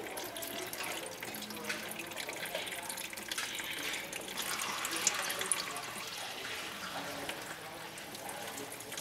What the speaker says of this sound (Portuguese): O Daniel vai largar uma aguinha lá por cima lá, dá pra mostrar pra vocês a água descendo aí